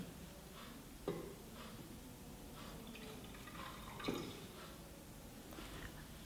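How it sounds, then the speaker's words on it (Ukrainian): Water is poured from a measuring cylinder into a calorimeter in a school physics lab, faint and close, with soft trickling and two brief splashy gurgles standing out against a quiet background. "Переливаємо воду з мірного циліндра у калориметр."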